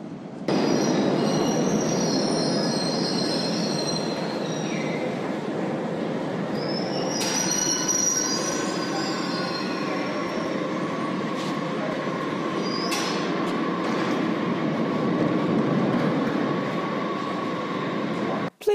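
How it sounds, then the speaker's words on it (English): A London Underground Piccadilly line train bound for Cockfosters runs through a tunnel, a loud sustained roar with high squealing wheels and rattling that carries on throughout, with faint voices now and then. "This is the Piccadilly line in service to Cockfosters."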